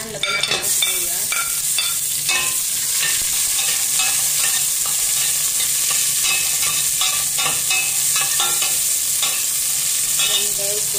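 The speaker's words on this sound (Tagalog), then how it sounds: "lagay natin ang sibuyas." Onions for sotanghon fry in a pan with a constant bright sizzle, punctuated by frequent close scraping strokes of a stirring utensil, with no one speaking.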